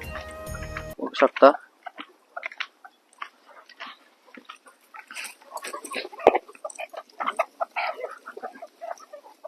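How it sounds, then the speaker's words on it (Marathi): Scattered clucks and short calls from a small flock of village chickens, some close and some farther off, mixed with pecking noises as they feed and a voice briefly at the start. "हे आपले प्युअर गावठी कोंबड्या आहेत"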